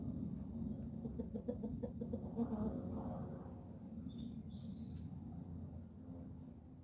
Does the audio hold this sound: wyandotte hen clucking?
yes